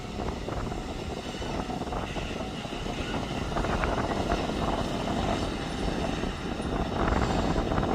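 An autonomous tractor pulling a tillage tool through a field rumbles steadily, a dense, loud broadband drone with clanking texture as it slows and turns, heard close without talk.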